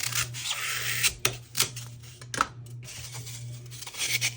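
A blade cuts through craft material for Easter egg and door decor, giving scissor-like snips and rasping scrapes. The strokes come in an irregular series, some sharp and some drawn out, close to the listener and over a faint hum.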